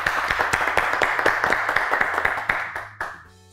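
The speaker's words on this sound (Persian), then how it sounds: "اول یک تشویق کنین" Studio audience on a television quiz show clapping together in a steady, dense burst of applause that fades out over a few seconds.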